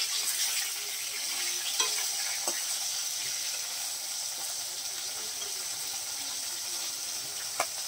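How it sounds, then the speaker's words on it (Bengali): Rupchanda fish frying in a pan with a steady, fairly quiet sizzle, broken by a few faint clinks of a utensil. "মাছগুলোকে সুন্দর করে লাল করে ভেজে নিচ্ছে"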